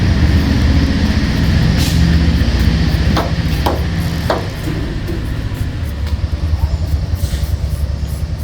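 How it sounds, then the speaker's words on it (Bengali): Knife chopping potatoes in a home kitchen, a few distinct sharp cuts in a short cluster over a steady low background rumble. "এখন আমি কেটে নিচ্ছি আলু।"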